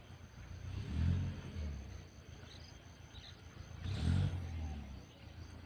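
A four-cylinder engine on an excavator idles and revs in two low surges, with a faint insect chirp in the background.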